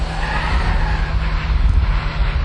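A Lotus Elise slides progressively through a corner, its tyres squealing loudly and steadily over the close, constant drone of the engine.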